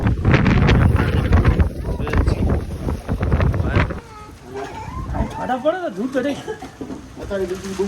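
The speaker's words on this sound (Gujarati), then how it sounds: "વધી ગયું છે, વાયરો પણ વધી ગયો." Strong wind from a storm buffets the microphone with loud roaring gusts for about four seconds, then eases as a voice speaks over a quieter background.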